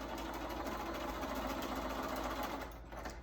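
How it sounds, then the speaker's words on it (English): A sewing machine runs steadily, stitching fabric along a marked seam line for a quilt block, a continuous close mechanical whir with a fine rapid needle rhythm that eases slightly near the end. "I'm gonna sew along that little line"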